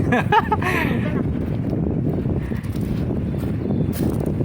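Wind at Dolomite Beach buffets the microphone in a steady, loud rumbling roar, with a brief voice near the start and short gusts standing out over it.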